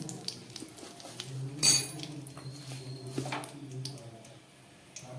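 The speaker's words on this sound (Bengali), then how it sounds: "এই ফোড়নে একটা শুকনো লঙ্কা দিলাম, দুটো এলাচ, একটা লবঙ্গ দিলাম, আর দুটো তেজপাতা দিয়ে দিচ্ছি।" Dried red chili, cardamom, clove and bay leaves go into hot oil in a pan for a vegetarian tempering: soft clinks and clatter with two brief sizzling bursts, fairly quiet and close, with no talking.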